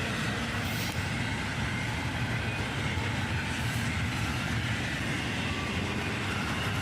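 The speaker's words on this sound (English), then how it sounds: "about halfway through the train, and we get a mid-train DPU, a rebuilt CM40 AC." A CSX freight train passes, including well cars carrying double-stacked tanks, with a continuous close rumble and rolling roar of wheels on rail that stays even throughout.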